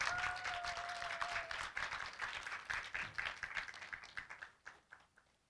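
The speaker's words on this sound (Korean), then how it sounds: "박수와 함께 축하해 주시기 바랍니다." An audience at an online journalism awards ceremony applauds a special prize winner, a soft, fairly distant round of clapping that thins out into scattered individual claps before dying away.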